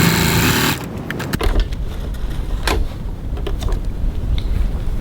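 A sewing machine runs in a short, fast burst as it stitches a seam, then gives way to scattered clicks and fabric handling at moderate loudness.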